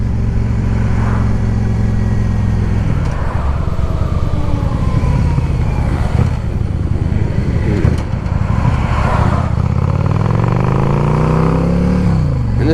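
A 2010 Yamaha V Star 650 motorcycle rides along with a loud, close, chugging engine note, revs rising and falling through gear changes, heavy wind buffeting mixed in, and no talking.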